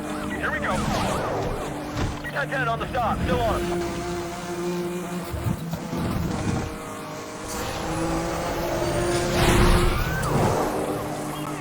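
A car engine revs at full throttle in a Need for Speed race, with a loud, sustained roar that shifts in pitch, brief tire squeals and a person talking over it.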